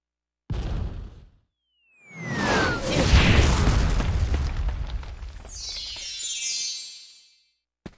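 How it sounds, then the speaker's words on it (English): A sharp cannon boom in the video game Kingdom Hearts Birth By Sleep, then a brief pause and a long, rolling explosion with a whooshing tail that slowly fades out. "Cannon fire? Where's it coming from?"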